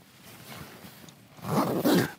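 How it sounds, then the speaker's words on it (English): Zipper pulled shut from inside a hooped bivi bag, a steady rasping run that grows louder and rougher toward the end, close by with no talking. "you just zip up from the inside."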